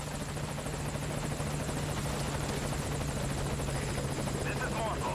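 A helicopter arriving at a landing zone in Metal Gear Solid 5, its rotor producing a steady, continuous chopping drone throughout, with a voice talking over it.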